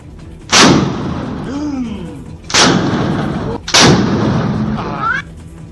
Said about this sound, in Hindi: एक मकान की छत पर ये सभी लोग एक एक कर बंदूक से फायरिंग करते दिखाई दिए